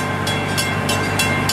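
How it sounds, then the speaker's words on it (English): The Gatorland Express train rumbles steadily toward the station, close and fairly loud, with evenly spaced rhythmic clacks about every third of a second and no voices. "as we make our final approach to the train station, please stay seated until we come to a complete stop"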